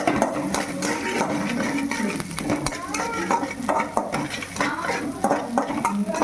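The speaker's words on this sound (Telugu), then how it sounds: "హాఫ్ మినిట్ ఇట్లా మీరు బాగా అన్నీ కలుపుకుంటే, హాఫ్ మినిట్ బాగా కలుపుకోవాలి" A spoon stirs curry leaves in a pan for Bombai chutney, scraping and clinking against the metal in repeated strokes over a soft sizzle, with no talking.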